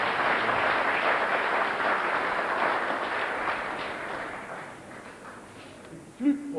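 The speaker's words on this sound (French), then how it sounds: "sous vos acclamations, nous allons le recevoir." A large crowd applauds in a dense wash of clapping that slowly fades, ending with a brief louder knock.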